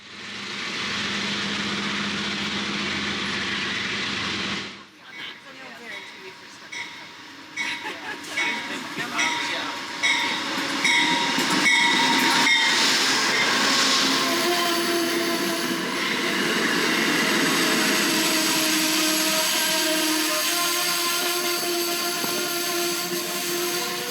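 An Amtrak Northeast Regional passenger train rumbles and clatters as it pulls away from Richmond, Virginia, rhythmic wheel clicks building into a steady, loud rolling hum with a high whine.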